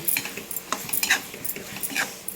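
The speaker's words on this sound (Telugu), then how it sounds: "ఇప్పుడు ఇందులోకి ఎండు చేపలని వేసుకుంటున్నాను వేసుకొని ఒకసారి బాగా కలుపుకోండి" A spoon stirs dried fish into roasted tomatoes in a pan, making soft, scattered clinks and scrapes of metal against the pan at an irregular pace, fairly quiet and with no talking.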